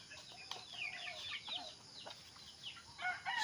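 Several Zamboanga Peninsula native chickens cluck and chatter in a busy flock, with scattered squawks close by and a crow-like call rising near the end.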